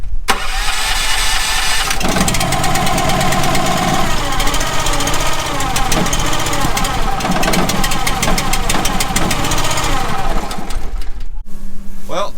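A seed tender engine cranks and catches, then runs loud and rough at a fast rattling idle before cutting out near the end. Voices are faintly audible under the noise.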